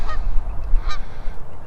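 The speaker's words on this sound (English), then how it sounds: "It's another goose on a nest here." A goose near its nest gives two clear honking calls, one at the start and a stronger one midway, close and loud over steady low outdoor rumble with no talk.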